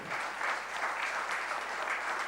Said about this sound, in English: A bigger applause I think they deserve.